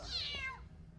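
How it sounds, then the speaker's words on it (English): A cat meows once in the video game Harry Potter and the Philosopher's Stone: a single short, faint, high-pitched mew that slides downward over a low background hum. "Alright, go away, kitty."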